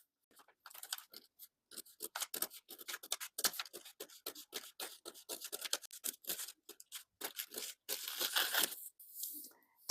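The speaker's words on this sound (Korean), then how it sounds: "전체적으로 허리선이 매끄럽게 조정되었으면 이 선을 가위로 잘라줍니다." Scissors cut along the waistline of a paper skirt pattern, giving a long run of close, dry snips and crisp tearing-like crunches at a steady rhythm, with no voices.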